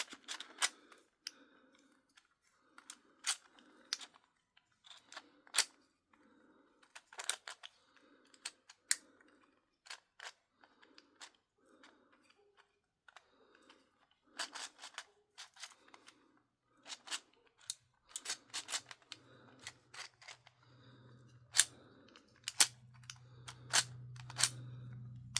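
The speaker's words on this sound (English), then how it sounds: "Can hear it in there rattling around." Small loose metal pieces rattle and click inside a key machine puzzle as it is tilted and shaken, giving sharp irregular ticks in bursts, close and fairly quiet, with a low rumble building near the end.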